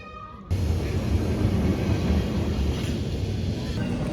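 A Lisbon tram rumbles past on a city street, a steady, fairly loud low rolling drone with faint metallic squeal that starts abruptly after a brief quieter moment and holds to the end.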